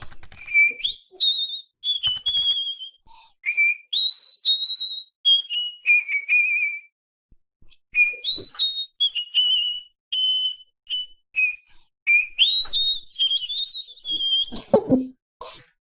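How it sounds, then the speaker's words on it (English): A whistle blown in a long run of sustained, fairly loud bursts, some gliding up or down in pitch and separated by short gaps, with a few brief clattering noises near the end. "Let's try a whistle."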